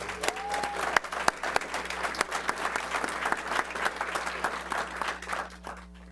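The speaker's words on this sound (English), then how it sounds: "So a round of applause." Audience applause at a Desert Hot Springs city council meeting, a steady mass of clapping from the room lasting several seconds with a few sharper near claps, fading slightly at the end.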